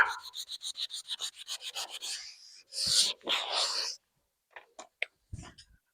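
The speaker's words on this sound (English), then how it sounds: "I'm just sanding it until I see that it gets a little bit lighter." Quick, rhythmic back-and-forth sanding strokes rasp against a wooden fireman's axe handle, then a couple of longer scrubbing passes and a few faint taps.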